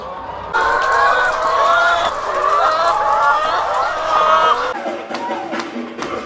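Laying hens clucking inside a coop holding about 1,200 birds, a loud, dense chorus of overlapping clucks and drawn-out cackles that fades somewhat near the end.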